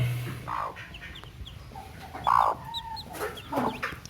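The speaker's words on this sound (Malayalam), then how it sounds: "അമ്മക്കോഴിയും കുഞ്ഞുങ്ങളും" A mother black chicken clucks repeatedly close by while her small chicks peep faintly in the background, in a calm outdoor setting.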